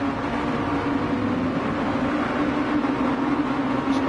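Several sim race car engines in a Mazda touring car game hold high revs on the grid, a steady droning hum with a strong sustained tone, continuous and fairly loud with no talk.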